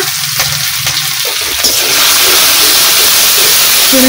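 A spice paste of ground cumin and coriander with dried chili, onion, garlic and ginger, plus turmeric powder, hits hot oil in a pan, giving a loud, close, steady sizzle that swells and holds.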